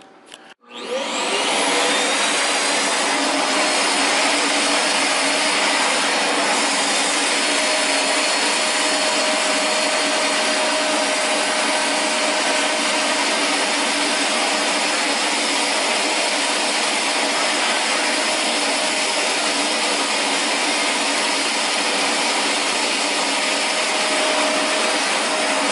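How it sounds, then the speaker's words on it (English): A Vax Air Revolve Pet upright vacuum cleaner starts up and runs continuously at close range, a loud, steady motor whine with broad airflow hiss holding level for the whole stretch, no talking over it. "let's do some real vacuuming with it."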